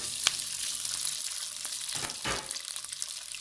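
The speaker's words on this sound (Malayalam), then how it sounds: "കറിവേപ്പില ഒന്ന് മൂത്ത് വന്നതിന് ശേഷം അതിലേക്ക് നമ്മൾ ആക്കി വെച്ചിട്ടുള്ള നമ്മുടെ പിടി ഇട്ട് കൊടുക്കാം" Pidi rice dumplings dropped into hot coconut oil with curry leaves, a soft steady sizzle with a few sharper spits and crackles, close and fairly quiet, no talking.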